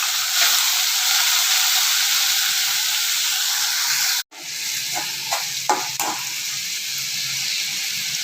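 Tomatoes and onions fry in hot oil for dried fish thokku, a continuous loud sizzle and hiss close by, briefly cut silent midway, then resuming with a few stirring scrapes.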